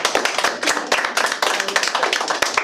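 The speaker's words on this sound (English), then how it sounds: "We'll give it a round of applause, y'all." Audience applause at the close of a show's season finale, a small group clapping with individual claps clearly distinct in a quick, uneven rhythm, fairly near.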